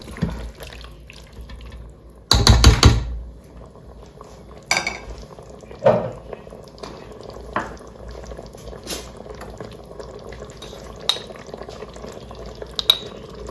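A spoon stirs plov in a multicooker bowl with scraping, clinking strokes, one loud burst early and scattered softer knocks after, over a low steady background hum.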